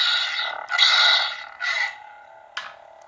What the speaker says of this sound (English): The sound you hear now is the clash sound